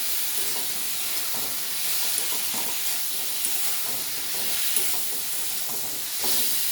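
Potatoes frying in a pan for a mustard-poppy seed shrimp dish, a soft continuous sizzle and hiss with faint stirring scrapes, steady and fairly quiet.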